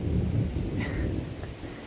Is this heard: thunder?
yes